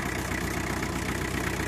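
A tractor engine runs steadily at a field before ploughing, a loud, close, even diesel rumble with a fast knocking pulse and no break.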